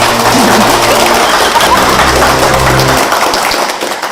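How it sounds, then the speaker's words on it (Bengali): Applause from a company event audience fills the room in a dense, steady wash of many hands clapping, loud and close, tapering slightly near the end, with a low musical hum underneath. "হয়ে যাক আর একবার হাততালি"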